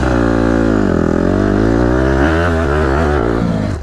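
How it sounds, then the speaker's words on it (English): A motorcycle revs loudly and close during turn wheelies, its engine pitch rising and dipping in a continuous roar that wavers as the throttle changes. "My turn wheelies are not really working out"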